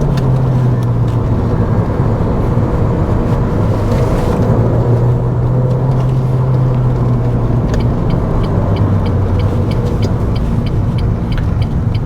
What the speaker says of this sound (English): The 2-litre engine's really revvy, kind of urges you to get your foot down